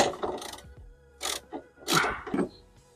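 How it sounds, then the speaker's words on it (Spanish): A ratchet wrench loosening a 17 mm transmission mount bolt under a vehicle, several short bursts of quick clicking separated by pauses, close and moderately loud with no talking. "vamos a retirar este tornillo, también es de 17 milímetros"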